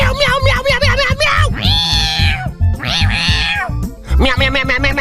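A human voice imitates a cat, letting out a loud, close string of rapid, high, drawn-out meows in bursts while calling for a lost cat.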